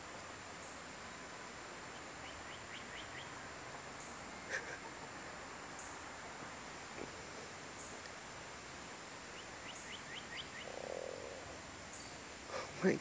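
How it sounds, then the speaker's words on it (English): A frog croaks faintly at a homestead, short rapid trains of ratcheting calls repeating a few times over quiet outdoor background hiss. "that other one was definitely a frog"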